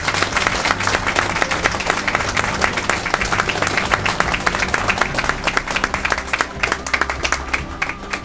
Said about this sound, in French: applaudissez très fort Frédéric, j'y tiens vraiment.